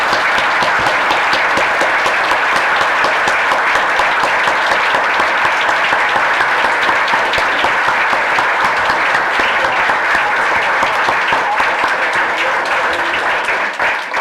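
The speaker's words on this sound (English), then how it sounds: "I just want you all to give this group a round of applause" A room full of people applauding at the close of a League of Women Voters candidate forum in Marquette County, Michigan, with steady, loud, continuous clapping lasting about fourteen seconds before tapering at the very end.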